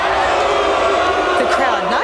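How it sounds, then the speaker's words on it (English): Dense, loud crowd noise fills an arena at a women's boxing event after a draw decision, with broad sustained murmuring and shouting and a few rising voices and whoops near the end. "The crowd not happy with the decision."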